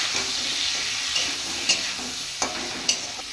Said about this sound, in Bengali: লবণ দিয়ে দিলাম, হলুদও দিয়ে দিলাম, একটু ভাজা ভাজা করে নিই।